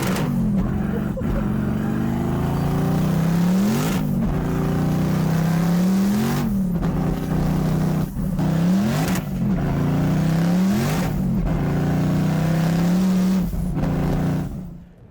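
Bagged Chevy C30 dually truck with a 1,300-horsepower 427 engine, heard on a drive as it revs hard and loud, roughly six rising pulls, each broken by a short gap at a gear change, with no talking.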